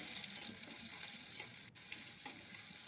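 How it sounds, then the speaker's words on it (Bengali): Steady, close sizzling of chopped onion frying in mustard oil with whole garam masala, bay leaves and dried chilies, a continuous crackle with a brief scrape partway through. "সর্ষের তেল ফোড়নে দিয়েছি গরম মশলা তেজপাতা শুকনো লঙ্কা তারপর দিয়েছি কুচানো পেঁয়াজ"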